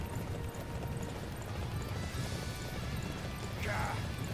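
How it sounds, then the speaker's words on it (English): A horse in the video game Dynasty Warriors 9 trots along, its hooves making a continuous rhythmic clip-clop beneath a dense wash of battle noise and a brief whinny-like cry near the end. "We get to see the indestructible horse though, which is kind of nice."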